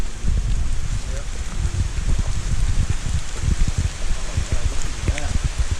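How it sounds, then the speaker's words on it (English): Steady rain pours down on a hiking trail, a dense continuous hiss with close patters and drips, fairly loud and unbroken throughout, with some wind buffeting the microphone. "Rain's coming down pretty good now."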